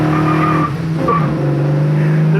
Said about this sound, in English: Modern Chevy driveline in an old school Chevy Camaro. All muscle.